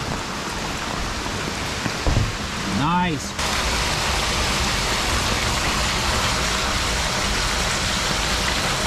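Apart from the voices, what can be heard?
heavy rain falling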